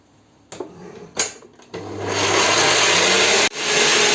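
An electric mixer whips a sugar mixture for a kisil cake, starting with a few short bursts and then running as a loud, steady whir.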